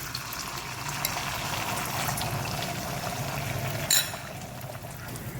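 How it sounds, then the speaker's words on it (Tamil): Rice flour batter for kalathappam is poured into an iron kadai with a little ghee, making a steady, close rushing pour and soft sizzle that runs unbroken, with one brief sharper clink near the end. "இப்போ இதில் ஊற்றி எடுத்துக்கிறேன்."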